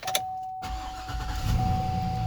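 A 2006 GMC Yukon Denali engine cranks briefly after a click, then catches and settles into a low, rising idle, close and clear with no talking.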